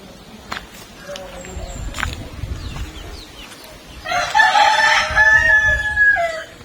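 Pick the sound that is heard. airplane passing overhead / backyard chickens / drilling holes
backyard chickens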